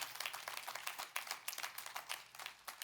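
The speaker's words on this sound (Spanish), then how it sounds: "aplauda fuerte al Señor" Congregation at a church service clapping together in dense, sustained applause, faint and slightly distant.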